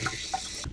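Water trickling from a camper tap with low pump pressure, a thin, uneven splashing flow with small gurgles, close by and without speech.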